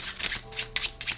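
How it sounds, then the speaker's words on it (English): Overhand shuffle of a deck of playing cards, close and clear: four or five quick papery riffling bursts in a steady rhythm with no talking. "and then overhand shuffle."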